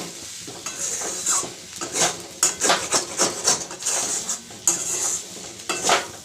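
Fried potatoes with spring onions are stirred in a pan for a Bengali posto dish, with rhythmic, close scraping and clinking strokes over a soft, continuous sizzle.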